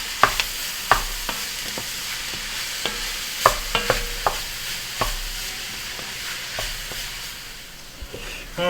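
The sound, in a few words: mushroom, carrot, onion and celery base cooking down in pan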